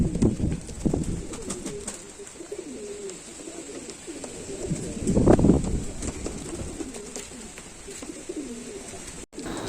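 Pigeons at a breeder's house coo in repeated soft, throaty rolls, several birds overlapping close by, with one louder burst midway over a steady background murmur.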